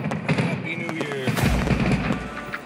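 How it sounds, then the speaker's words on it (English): New Year's fireworks explode in Las Vegas in a series of sharp, booming cracks and crackles, some rapid and some spaced apart, with people talking nearby over the blasts. "Fireworks."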